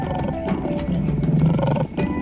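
A male lion roars in the wild, loud, deep, continuous and close, with sharper accents overlaid.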